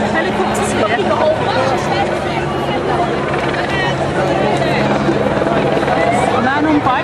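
A helicopter's rotor chop and engine whine fill the background while a crowd chatters and murmurs nearby at the London 2012 Olympic Torch Relay, Magic Roundabout, Swindon.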